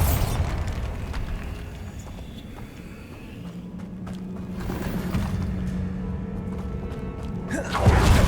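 A Bombarda exploding spell is cast in Hogwarts Legacy, giving a deep, rumbling blast at the start. Quieter scuffs and a low hum follow, then another sharp booming burst near the end.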